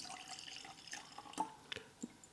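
Dark El Dorado 12-year-old rum poured into a glass, faint dripping and trickling with a few soft, distinct drops, close and quiet.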